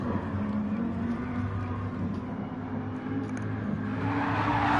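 A Lamborghini GT4 race car lapping the Interlagos circuit, a steady engine drone with shifting pitch that builds louder toward the end, with a commentator talking over it.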